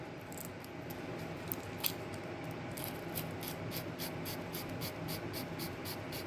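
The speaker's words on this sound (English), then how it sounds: "using a sandpaper, you can clean the armature" Sandpaper rubs against the commutator of a Robot Coupe hand blender motor armature, a faint continuous scratchy scrubbing with small clicks, heard alone.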